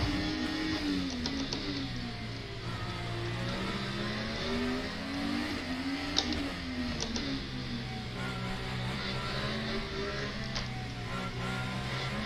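A race car engine in a sim racing game revs and rises and falls continuously, with steady harmonic pitch sweeps as the car works through first gear around tight corners, loud and unbroken throughout.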